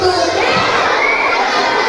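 A crowd of children at an Islamic elementary school, MI Takhasus Darul Ulum, shout and scream together in a loud, continuous roar that holds steady throughout.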